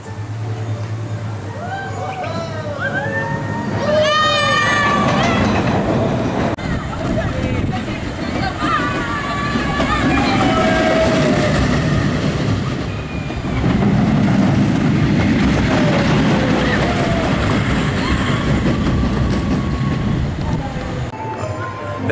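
The Dragon roller coaster in Knight's Kingdom at Legoland Windsor rumbles and clatters along its track in a long, continuous roar. Rider chatter and excited voices run over it throughout, with brief high squeals early on.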